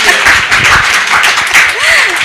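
Brief burst of applause from a conference audience at an opening ceremony, scattered hand claps rising and fading over a couple of seconds, fairly close and loud.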